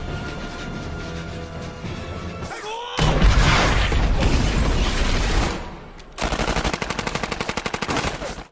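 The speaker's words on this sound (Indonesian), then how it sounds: "aksi tembak-menembak pun mulai terjadi." Loud gunfire from a film battle scene between soldiers and Chinese troops. It begins with a heavy crash and roaring volleys, then settles into rapid, rhythmic automatic-weapon bursts up close.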